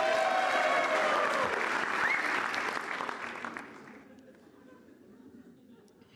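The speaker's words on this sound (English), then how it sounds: "By applause, who wants to hear the really dark ending?" A theatre comedy audience bursts into loud applause and cheering chatter, holding strong for a few seconds, then tapering off into scattered claps and murmurs.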